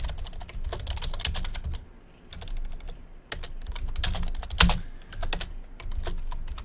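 Keys clatter on a computer keyboard in bursts of quick typing with brief pauses, close and fairly loud, while a sign message is entered during Minecraft play.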